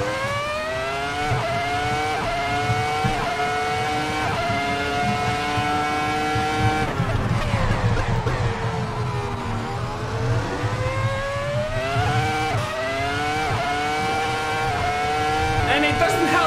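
A race car engine at Spa in the Assetto Corsa video game holds a loud, steady drone, with the pitch repeatedly climbing through the gears and dropping on upshifts and braking.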